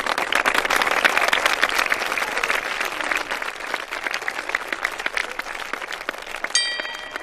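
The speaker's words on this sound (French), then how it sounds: "Et on applaudit." Audience applause, sustained, even clapping that carries on throughout at a moderate level with no talk over it.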